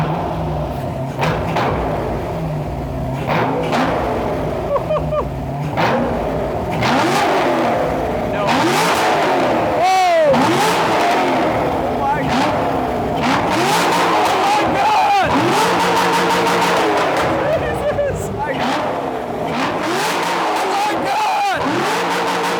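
An LS V8-swapped Porsche 911 with a big cam, its custom exhaust revving repeatedly in loud, sharp bursts that rise and fall, with people talking over and between the revs.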